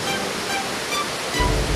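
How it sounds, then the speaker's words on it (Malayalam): Meenmutty waterfall near Kilimanoor in Trivandrum gives a dense, steady roar of falling water, loud and constant with no voices over it. "ഇതൊരു ചെറിയ വെള്ളച്ചാട്ടമല്ല ഇതൊരു അഡാർ അടിപൊളി വെള്ളച്ചാട്ടം തന്നെയാണ്"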